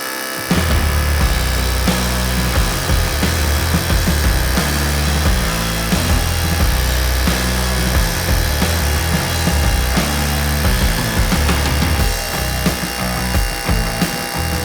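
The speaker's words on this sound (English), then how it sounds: "You tighten down your depth gauge, then you drill your hole." A loud DeWalt power drill runs continuously up close, its motor whine pulsing as it bores a hole for Tapcon screws for the whole stretch.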